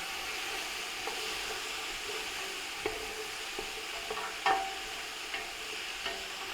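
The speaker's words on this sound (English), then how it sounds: "So we're just going to sweat this off for 5 minutes" Garlic and chopped vegetables sweating in a pan for ratatouille, a soft steady sizzle with occasional light clicks of stirring, close and quiet, with no voices.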